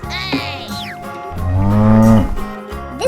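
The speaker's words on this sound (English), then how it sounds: "This is cow." A cow moos loudly and close, one drawn-out low call swelling in the middle and then trailing off, with no talk over it.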